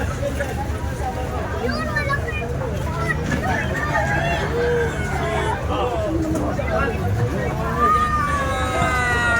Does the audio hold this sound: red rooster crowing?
yes